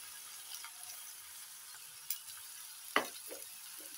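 Green pepper and tomatoes sizzling in a pan with beef for a stew: a faint, steady frying hiss with a few soft clicks and spatters, heard alone.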